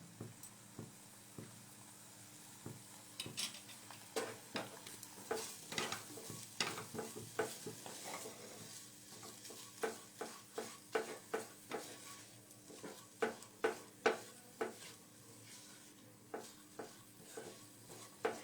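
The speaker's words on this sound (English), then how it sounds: "I'm adding 1 bowl of khoa that I have grinded with my hand." Hand-ground khoa stirred in a pan with butter: soft repeated scrapes and taps of a spoon against the pan in an irregular rhythm, with faint sizzling underneath, close and quiet.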